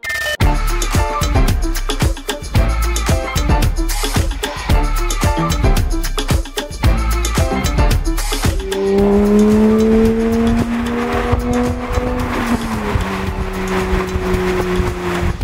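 A Porsche GT3 sports car with a manual gearbox revs hard through rapid gear changes, loud and close. Then the engine holds a steady, rising drone and later settles into a lower pitch.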